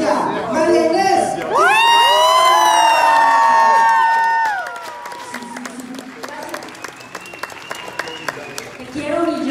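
A live show audience cheers, whoops and claps to welcome a singer, with high excited shrieks rising and sliding in pitch before the crowd settles into scattered clapping and murmur; a voice speaks briefly over it.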